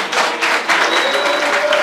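Applause in memory of the late Pascal Lissouba at a press conference, a steady wash of many hands clapping close and loud for a couple of seconds, with no talk over it.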